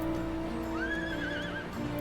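A horse mount in Final Fantasy XIV gives a single clear, rising-and-falling whinny over a steady background of game music and ambience.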